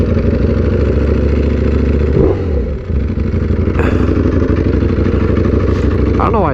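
Ducati Panigale V4R superbike with an SC Project exhaust, its engine droning loud and steady with dense harmonics, a brief dip and rev change midway and another rising rev near the end.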